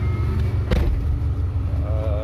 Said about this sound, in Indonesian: Mesinnya kita coba naik, kita panasin dulu sampai